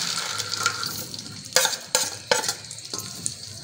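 Cardamom and dry fruits sizzle and fry in hot ghee while a spoon stirs them, with a steady frying hiss broken by several sharp scraping strokes against the pan.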